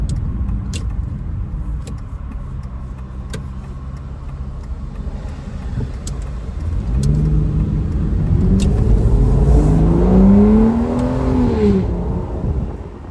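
A 2006 Aston Martin DB9 Volante with a 5.9-litre V12 running close by, a deep rumbling idle that rises into a rising, sweeping rev as the engine and exhaust build up, then falls back.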